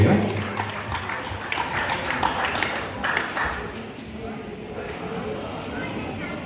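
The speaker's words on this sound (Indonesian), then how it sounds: "Kita berikan tepuk tangan yang meriah." Audience at a boxing camp inscription-signing ceremony gives lively applause, steady crowd clapping throughout at moderate loudness with some voices mixed in.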